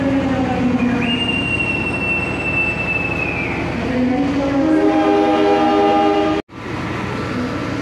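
A passenger train pulls into Kebumen station in Central Java, its horn blowing a long steady note, then fading as wheels squeal and rumble loudly on the rails, with a brief dropout near the end.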